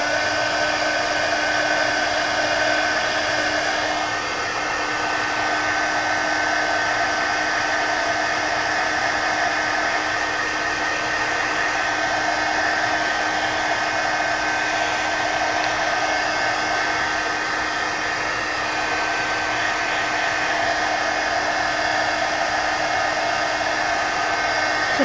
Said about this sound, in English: let's dry it